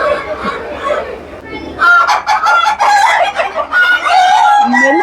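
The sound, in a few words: chickens clucking and crowing at a flower show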